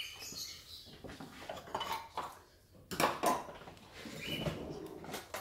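Ceramic dishes clink and knock as bird food of kiwi fruit, zucchini and cucumber is served out for a bird breeder's birds, a run of close, scattered clatters and scrapes with no talking.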